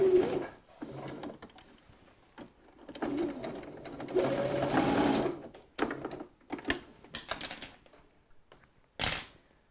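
Sewing machine stitching up the back of a garment leg, running in bursts of rapid mechanical chatter with short pauses and a final quick run, close and clear.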